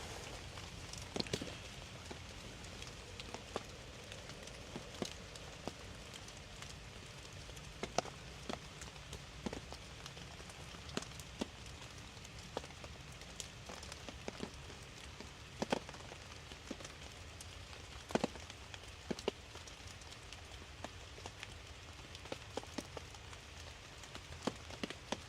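Rain falls outdoors by a smoky campfire in a faint, steady patter, with scattered louder drops ticking on a nearby surface throughout.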